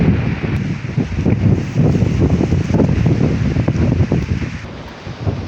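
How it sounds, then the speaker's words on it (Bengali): Strong, gusty wind roars steadily against the microphone outdoors as a storm builds under heavily clouded skies during flooding in Mathbaria, a loud continuous rush with no talking. "খুব স্পিডি হাওয়া চালাইতে আছে"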